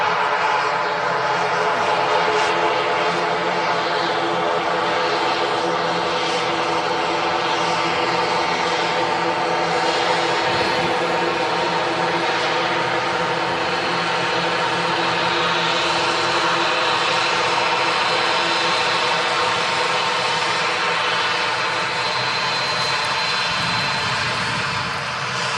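Turboprop aircraft running its propellers at Manchester Airport, a loud, sustained engine drone with a steady tonal hum that holds throughout, heard from nearby outdoors.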